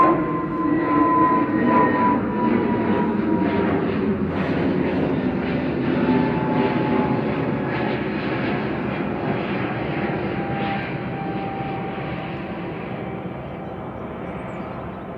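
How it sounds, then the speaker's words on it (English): An EasyJet Airbus A320neo taking off from Manchester Airport produces a loud, sustained engine roar with a whining tone, fading slowly as the jet climbs away. "EasyJet off to Paris"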